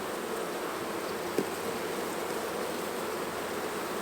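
Honey bees buzz in a steady, dense drone during a beehive inspection, close and continuous with one faint click partway through.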